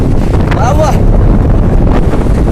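Strong wind at Gavkhadi beach in Ratnagiri roars loudly and steadily against the microphone, a constant buffeting rumble with a brief faint whistle partway through.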